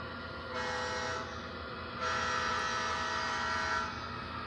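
An MTH Christmas model train running on its track indoors, a faint steady rumble with a sustained horn-like tone sounding in two long blasts.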